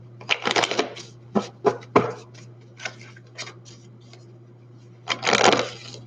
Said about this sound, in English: I'm trying to shuffle it really good.